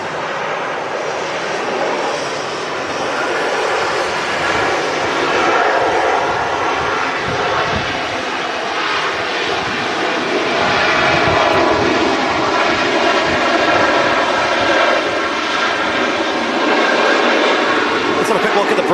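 An airplane lands at Manchester Airport, flaring over a hump in the runway, its engine roar loud and sustained throughout with a broad rumbling wash.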